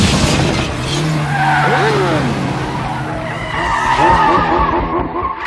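A motorcycle chase from Mission: Impossible 2, with loud, close tire squeals and skids over roaring engines that rise and fall as the bikes race along.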